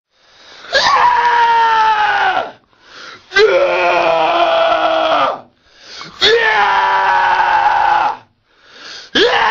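A person lets out long, loud screams for Warhammer Online voice dubbing, four drawn-out wails separated by brief pauses, harsh and strained, very close and alone.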